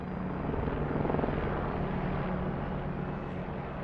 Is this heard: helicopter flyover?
yes